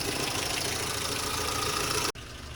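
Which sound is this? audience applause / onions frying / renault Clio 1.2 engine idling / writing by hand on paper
renault Clio 1.2 engine idling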